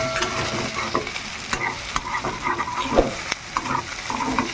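Fish oil (fish fat) frying hard in a pan over a high gas flame, a continuous loud sizzle with scattered crackles and pops and occasional stirring scrapes.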